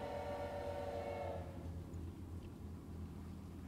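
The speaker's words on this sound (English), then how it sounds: "Train whistle, maybe?" A steam train whistle from the video game Choo Choo Charles sounds loudly for about a second and a half, then fades into a low rumbling hum.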